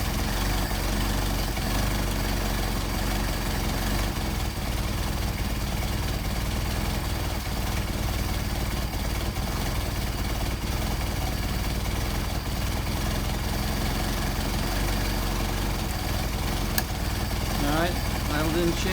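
A car engine idles steadily and continuously at close range, its low rumble holding an unchanging note throughout while the throttle linkage is adjusted.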